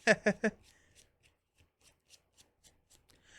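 Arkham Horror: The Forgotten Age encounter deck of cards being shuffled on a table: three quick loud riffles, then soft scattered taps and rubs as the cards settle.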